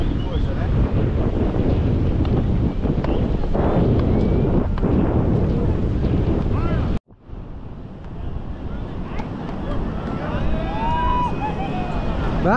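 Strong wind blowing across a beach, roaring steadily into the microphone with surf-like rumble, cutting out briefly midway before rising again; voices talk faintly in the background.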